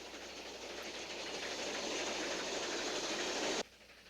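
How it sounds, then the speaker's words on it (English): A Chicago and Northwestern E2 locomotive hauls a local southbound train in a broad, steady rumble and hiss that builds over several seconds and then cuts off abruptly. "a Chicago and Northwestern E2 pulls a local southbound"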